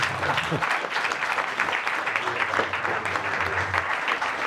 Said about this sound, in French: Vous pouvez encore l'applaudir.